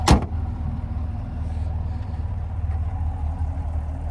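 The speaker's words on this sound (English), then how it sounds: "I love the growl that the engine itself actually gives. Sounds really beefy." Steady low rumble of a 2023 Chevrolet Camaro LT1 convertible's naturally aspirated 6.2-liter V8 idling, heard from close by and alone after a brief knock at the start.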